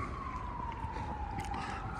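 A siren passes in the distance, its faint wailing tone slowly falling in pitch over steady traffic rumble.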